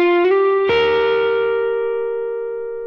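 An electric guitar plays a short lick: a note slides upward, then a second note is plucked and rings out with effects, slowly decaying.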